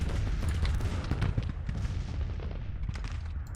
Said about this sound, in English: Okay, then just bombard here.